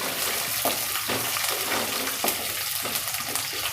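Ingredients roasting in oil for farali moraiya khichdi make a steady, close sizzle, punctuated every half second or so by the scrape of stirring, with no voices.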